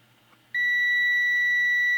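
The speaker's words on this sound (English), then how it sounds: "get it to beep" A multimeter set to continuity beeps while probing a resistor in a 1968 Silvertone 13-tube radio, a sudden steady electronic tone that starts after a brief quiet moment and holds loud and unbroken.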